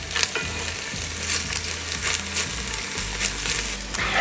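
Fresh hot peppers are stirred into food frying in a pan, a steady sizzle running throughout with soft scraping and stirring clatter on top, close and fairly loud.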